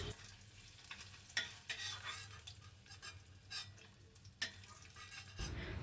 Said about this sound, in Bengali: বাকি মাছগুলোকেও আমি একইভাবে এই তেলেই ভেজে নেব।